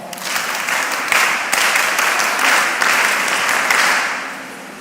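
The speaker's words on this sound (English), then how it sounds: "Clap for her." An audience at a mentorship session claps for a young woman who has just answered, a loud, dense burst of applause holding steady for several seconds before tapering off at the end.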